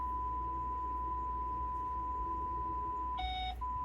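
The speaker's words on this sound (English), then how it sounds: "Hello, you've reached the voicemail." A single electronic voicemail beep, a bright steady tone with harmonics, sounds once near the end, clear and alone over a low background hum.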